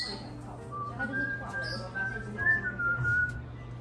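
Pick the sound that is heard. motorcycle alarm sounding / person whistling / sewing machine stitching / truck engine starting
person whistling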